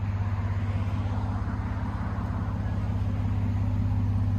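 Steady, deep droning of a Ford F-150 3.5L EcoBoost with a Carven exhaust running continuously at close range, with a constant low rumble that swells slightly toward the end.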